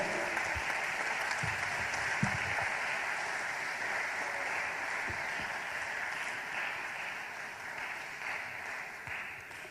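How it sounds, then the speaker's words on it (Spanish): Steady applause from a church congregation during a sermon, a dense continuous wash of clapping that holds evenly for about ten seconds with a few sharper claps poking through. "Dale un aplauso."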